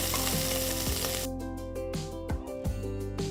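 Sliced onions sizzle in hot ghee inside a pressure cooker with whole spices and cashews, a loud, continuous frying hiss close up, with a brief quieter patch midway before the crackle returns.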